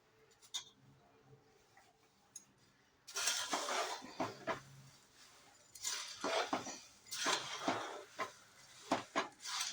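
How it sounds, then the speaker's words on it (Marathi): Puffed rice chiwda mixture tossed up and down in a pan over low flame: quiet at first, then bursts of dry, rustling scrapes and clatter from repeated stirring. "हे बघा, असं वर खाली चांगले हलवून घ्यायचे आहेत."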